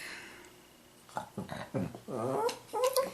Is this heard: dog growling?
yes